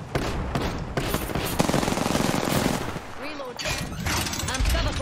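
Gunfire in the video game Apex Legends crackles in rapid automatic bursts and scattered shots, with players talking over the fighting.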